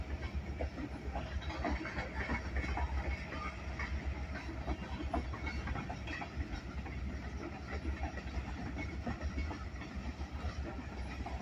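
Rumbling rail noise from a distant eastbound freight train, a steady low roar with faint wheel clatter and hiss holding level throughout, no talk.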